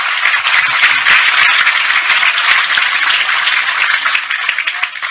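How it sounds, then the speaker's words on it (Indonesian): An audience at a lively Indonesian stage discussion claps for Sujiwo Tejo, dense sustained applause filling the room, loud and even throughout with no voices on top. "Sekali lagi tepuk tangan lebih keras untuk Tejo."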